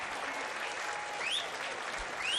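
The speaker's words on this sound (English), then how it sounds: "Michelle Heyman coming off to a great round of applause." A stadium crowd at a Liberty A-League women's football match between Canberra United and Melbourne City gives a steady round of applause as a player leaves the field, with a faint whistle-like tone rising through it.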